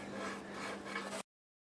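A saw cuts a slot in wood, a steady rasping rub lasting about a second before stopping abruptly into silence.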